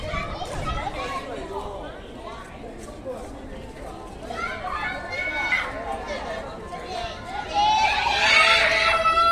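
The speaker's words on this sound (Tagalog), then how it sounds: "Bakit ang ingay ng mga bata?" Children play noisily outdoors in Ma Wan village, a close, busy mix of chattering kids' voices, shouts and shrieks that grows louder and more excited toward the end, with some footsteps among them.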